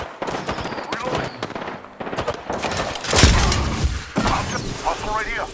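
Automatic weapon fire in Apex Legends, the battle royale shooter, rattles in close, loud bursts with a heavy impact near the middle, mixed with game voice callouts.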